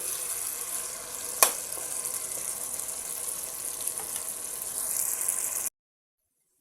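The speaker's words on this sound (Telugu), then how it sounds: "ఇప్పుడు దీన్ని బాగా లైట్ బ్రౌన్ కలర్ వచ్చేంత వరకు ఫ్రై చేసుకోండి" Onions sizzling steadily in a hot pan during frying for a potato chicken dum biryani, a continuous close crackle with a brief louder clatter early on, then cutting to silence near the end.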